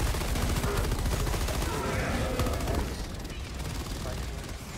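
Gunfire from Helldivers 2: dense, rapid automatic bursts rattling continuously and loudly, easing slightly toward the end, with people talking faintly underneath.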